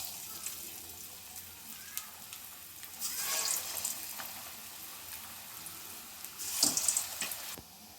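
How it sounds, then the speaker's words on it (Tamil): Egg bondas with vegetables deep-fry in hot oil, giving a soft, continuous bubbling sizzle that swells into louder hissing bursts as pieces are dropped in, close by and otherwise quiet. "இப்போ எண்ணெயில் பொரித்து எடுத்துடலாம்."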